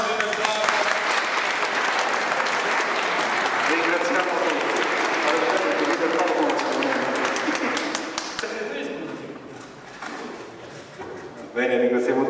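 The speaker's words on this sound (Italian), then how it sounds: "Applausi del Papa." Applause from a church congregation at a fiftieth wedding anniversary celebration at Santa Maria di Gesù in Mussomeli, dense and sustained for about eight seconds, then thinning out as someone speaks briefly.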